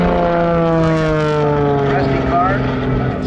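Propeller airplane flying aerobatic rolls at the Thunder Over The Rock airshow, a steady droning engine tone with shifting pitch, loud and continuous under a commentator's voice.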